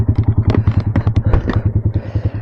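A Yamaha R15 motorcycle fitted with a free-flowing Akrapovic exhaust, at a drag race, throbs loudly and close with a fast, even train of deep exhaust pulses.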